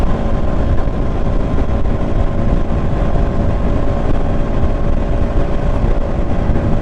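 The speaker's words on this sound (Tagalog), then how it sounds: "ganyan kagigil ang makina ng Duke 200 gusto niya talaga ano shift ka ng shift" A 2019 KTM Duke 200 V1 motorcycle engine drones loudly and steadily while riding through the gears, a continuous dense roar with wind-like rush and no talk.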